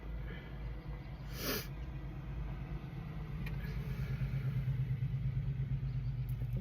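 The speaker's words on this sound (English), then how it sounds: "loud car." A loud car rumbles close by for several seconds, its low engine drone steady and swelling slightly toward the end, with no talking.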